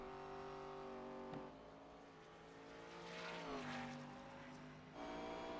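Sim racing Sportsman Series car on its final lap, engine humming steadily then dipping and climbing in pitch through a braking zone and back onto the throttle, fairly close and alone.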